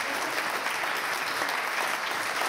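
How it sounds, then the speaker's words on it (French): An audience at a Christmas event applauds the technical team, a dense, steady clapping from a large crowd that runs unbroken and fairly loud throughout. "Je voudrais qu'on les applaudisse bien."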